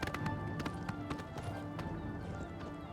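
Rapid clip-clop of a horse's hooves galloping in Oblivion Remastered, a steady close rhythmic drumming of hoofbeats with faint game ambience underneath.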